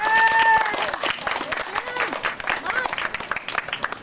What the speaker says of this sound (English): let's have a round of applause for the event organizers first and foremost